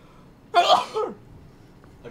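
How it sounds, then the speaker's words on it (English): A single sneeze bursts out at close range, one sharp explosive breath with a short trailing exhale, alone against quiet background. "Oh, greedy, I'm gonna sneeze."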